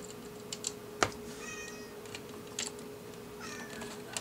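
A house cat meows a few short times beside a broken under-cabinet CD player on the bench, the calls faint and close, mixed with light clicks and taps.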